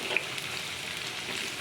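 Dried chapa fish, shutki, frying in a pan over medium heat, a soft continuous sizzle with a faint clink near the start, close and fairly quiet.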